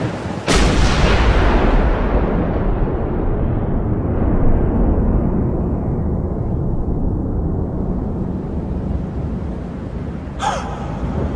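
Gunfire from the Max Payne 2 video game, a loud sharp burst at the start that rolls into a long rumbling roar and fades, with another brief sharp crack near the end.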